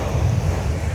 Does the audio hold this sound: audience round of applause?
no